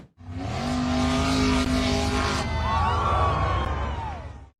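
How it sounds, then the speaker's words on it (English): Off-road vehicle number 16 roars up a steep sandy, gravel slope, its engine loud and close, holding a sustained high rev that rises and shifts in pitch partway through before easing off at the end. "Off-road vehicle number 16 accelerated powerfully up the steep sandy and gravel slope"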